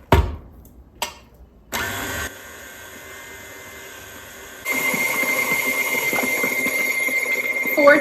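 An electric mixer whirs steadily through Valentine's Day cookie dough, starting after a few sharp knocks and rising to a louder, harsher drone partway through.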